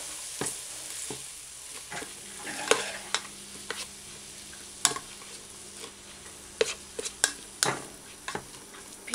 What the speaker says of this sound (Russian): Добавляем морковочку, все перемешиваем.